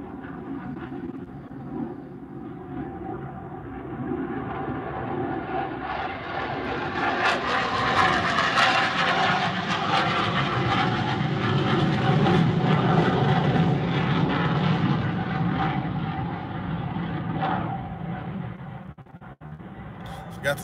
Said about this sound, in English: let me wait on this plane, this jet.